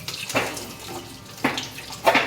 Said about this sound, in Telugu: గుడ్లు చాలా ఉడకగా ఉంది, దానికోసం నీళ్ళు వేసేసి ఇట్లా చేస్తా ఉన్నాను